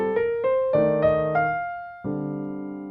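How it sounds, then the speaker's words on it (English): A II-V-I chord progression worked through with major-scale lines on a plucked string instrument, a handful of clear ringing notes stepping upward, then a sustained final chord ringing out, close and alone. "So our 2-5-1 is going to sound like this."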